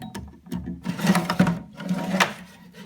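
Drawers of a large multi-drawer tool box sliding open and shut, with rattling, scraping runs and soft knocks close by in a quiet room.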